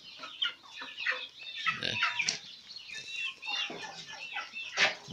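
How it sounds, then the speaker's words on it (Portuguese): Young free-range chickens of mixed ages clucking and chirping in a rotational pasture, many overlapping close calls in a busy, continuous chatter with a brief spoken word among them. "Aí tem uns franguinhos, né? Tem de várias idades"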